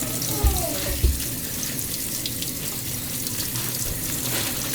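Water runs steadily from a tap and splashes into a sink during mead making, with a continuous close rushing sound and a couple of brief knocks near the start.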